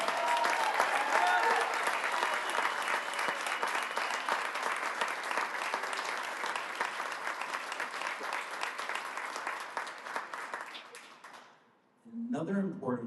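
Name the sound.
audience applause for a soccer player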